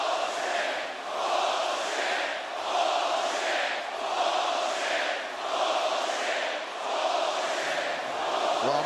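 An arena crowd at UFC 244 reacts to the stoppage of the Masvidal-Diaz fight with a sustained, loud roar that swells and dips in a regular chant-like rhythm, far-off and massed, with no single voice standing out.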